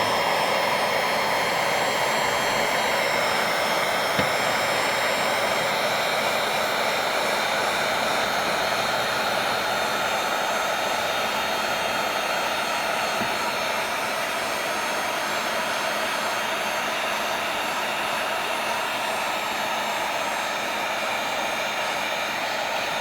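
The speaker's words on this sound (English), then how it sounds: "Again, I'm going to heat up that edge nice and good." A heat gun blows steadily and loudly while heating the edge of window film, a continuous whooshing roar with no speech.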